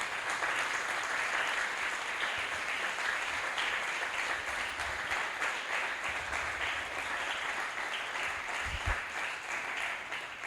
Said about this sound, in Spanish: Dale un aplauso bien fuerte al Señor.